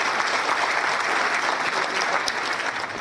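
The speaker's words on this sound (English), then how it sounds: "Please welcome him with a big round of applause" Steady, dense applause from an indoor audience welcoming the chief guest, the Director General of Police Uttarakhand, at an institute function; loud and continuous throughout with no voices over it.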